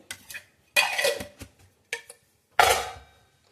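A spoon clinks against a bowl as two spoonfuls of ghee go in for a wheat-flour snack, a few separate bright metallic taps and scrapes with short pauses, close and clear with no talking.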